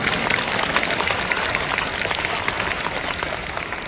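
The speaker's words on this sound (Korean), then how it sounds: "박수 좀 쳐주세요" Audience applause at a talk, dense and steady clapping at close range with no breaks, sustained evenly throughout.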